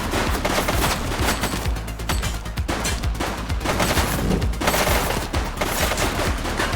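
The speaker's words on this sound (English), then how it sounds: "He's shooting." Dense gunfire fills a shootout in The Precinct, loud bursts of rapid shots crackling nearly nonstop with brief dips between volleys.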